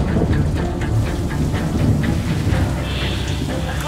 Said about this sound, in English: The next day it started to rain again, and this time it didn't really stop for the next